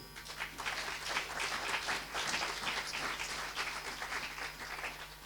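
A congregation at a prayer vigil applauds the Lord, a steady wash of many hands clapping at moderate distance, sustained and even without a break.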